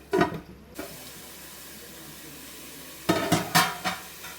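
Browned tempering is poured into a raw banana and dried mackerel curry, giving a short sizzling splash, a quiet pause, then a louder cluster of crackling sizzles and stirring clatter.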